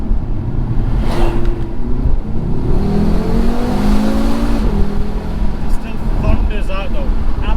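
A 2020 Audi RS3 with Sport Quattro settings, its engine revving loud and close with a deep, steady thunder and rising pitch sweeps from inside the cabin, while a voice talks over it.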